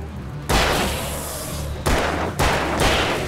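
Revolver shots in the video game Alan Wake: three loud, sharp blasts, each followed by a long ringing decay, the first near the start and two more close together toward the end.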